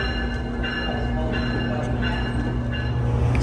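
An Amtrak Silver Star electric locomotive pulls away from a station, a loud, steady low rumble with sustained humming tones and faint rhythmic clicks of wagon wheels.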